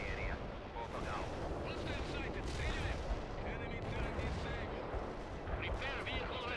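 Dense, continuous artillery fire rumbles and booms in the World in Conflict video game, a loud wall of distant blasts with radio-style voices occasionally talking over it.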